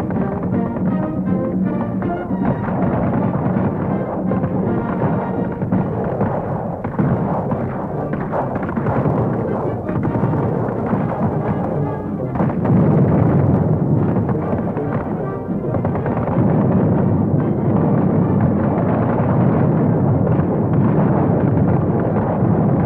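Machine gun fire over an army training field in a 1943 film soundtrack: dense, continuous rattling bursts and heavy booms filling the scene loudly, with a muffled narrow old-film tone.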